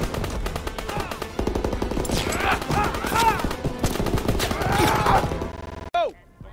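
Heavy machine gun fire in Call of Duty WW2 rattles in rapid, continuous bursts amid a battlefield clamor with shouting voices, cutting off near the end before a brief whizzing sound.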